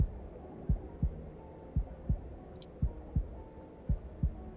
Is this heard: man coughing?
no